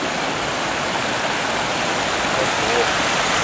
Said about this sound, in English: And this is cool, little baby falls.